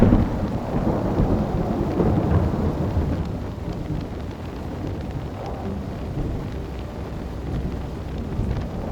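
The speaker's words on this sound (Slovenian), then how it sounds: "tale dež nas je kar dobro ujel" Heavy rain pours steadily with rolling thunder in a storm that catches travellers on a road trip, a loud dense wash of noise with low rumbles throughout.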